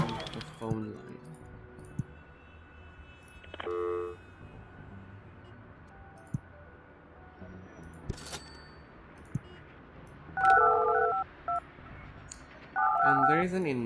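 Telephone keypad tones from the Project Highrise building-management game sound in two short bursts of dialing beeps, with other brief interface clicks and tones scattered earlier in the clip.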